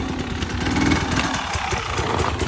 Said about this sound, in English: Another nice day, so the dirt bike comes out.